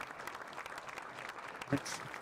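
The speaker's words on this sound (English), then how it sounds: "please allow me to give this panel a round of applause" Audience applause for a panel at a tactical information and network conference, a steady wash of clapping held at moderate level across the room, with a brief louder burst near the end.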